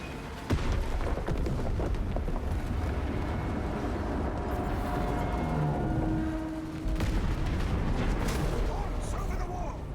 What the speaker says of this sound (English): Detonate the charges now.